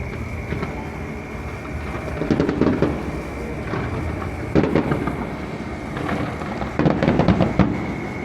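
Epcot fireworks at Walt Disney World heard from a distance: repeated dull booms and crackling bursts rolling over a steady background rumble, with no talking.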